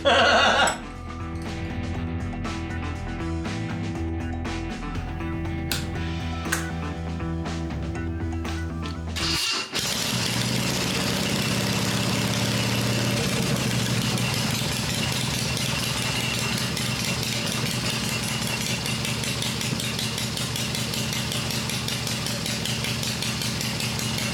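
Motorcycle engine with a newly installed Dyna S electronic ignition fires up and settles into a steady, loud idle that runs continuously after a brief stretch of clinking workshop noise.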